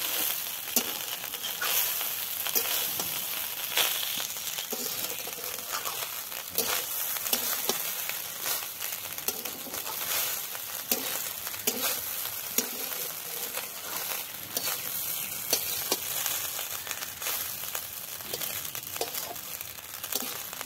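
Rice frying in plenty of ghee, sizzling steadily with a dense crackle, broken by frequent scraping and clattering of a spoon stirring the pan, close and fairly loud with no voices.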